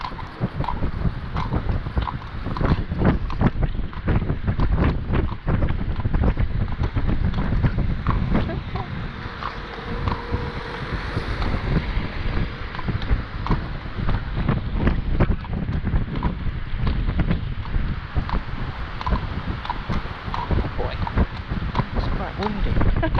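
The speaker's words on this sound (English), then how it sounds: "Windy." Strong wind buffeting the microphone outdoors on a blustery spring day, a continuous rumbling roar with gusty fluctuations throughout, loud and close.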